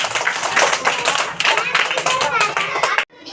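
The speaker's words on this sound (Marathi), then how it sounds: "टाळ्या वाजवा अथर्वसाठी" A small group of children claps for a child named Atharva during a number-sequencing lesson, giving brisk, fairly close applause for about three seconds with a voice mixed in, before it cuts off abruptly.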